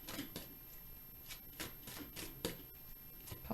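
Soft riffling and papery flicks of tarot cards being shuffled come in short bursts, a few quiet shuffles close by with brief pauses between.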